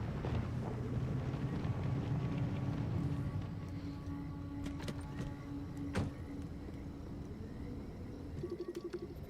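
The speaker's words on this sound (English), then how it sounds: "I'm definitely hearing that flat tire" In the video game Pacific Drive, a car rolls along on a blown-out flat tire, a continuous rough rumble and flapping drone with scattered clunks and knocks, steady and close.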